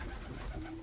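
A long-distance racing homing pigeon, flown 960 kilometres, gives a brief, faint, low coo against a noisy background.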